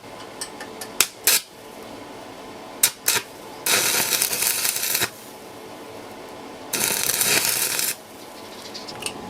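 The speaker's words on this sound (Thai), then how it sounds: "เรามาเริ่มกันเชื่อมกันเลยครับ" Arc welding reinforcement onto a metal earth auger drill bit: sharp metallic clicks and taps, then two sustained, loud, crackling welding bursts of about a second each, separated by quiet.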